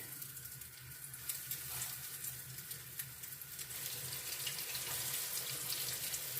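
Steady hissing sizzle of fish cutlets frying in hot oil, a dense crackling wash that continues throughout with no voices.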